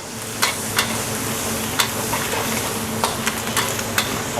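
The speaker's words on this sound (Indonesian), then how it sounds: "Cumi asin kita goreng setengah matang aja." Salted squid frying half-done in hot oil, a steady close sizzle broken by sharp scraping clicks of a spatula stirring the pan every second or so, with no voices.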